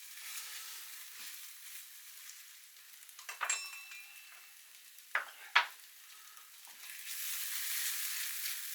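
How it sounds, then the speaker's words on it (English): King prawn curry fries in a pan with a soft, steady sizzle, broken by a few sharper scrapes and clinks as it is stirred; quiet and close, with no talking. "Just keep it moving, keep it stirring and frying."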